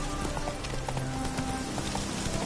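The horse Roach trots along in The Witcher 3, a steady clip-clop of hooves close by, with a soft ambient bed behind it.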